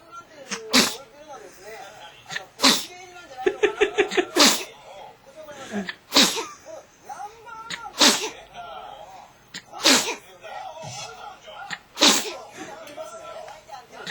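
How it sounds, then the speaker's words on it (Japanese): A dog sneezes repeatedly in a long run, about nine sharp, close bursts spaced through the stretch, including a quick cluster of small sneezes, while people talk softly in between. "すげえ連続でくしゃみ。"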